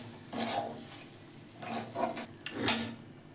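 Bori lentil dumplings are stirred into a spiced yogurt gravy in a pan, making several soft scraping, clinking strokes of a utensil against the metal over a faint sizzle.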